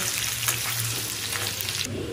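Boiled potato and papaya sizzle and crackle steadily in hot oil, a continuous close frying hiss with a faint low hum underneath.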